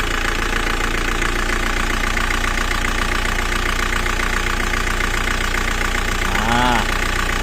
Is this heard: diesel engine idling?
yes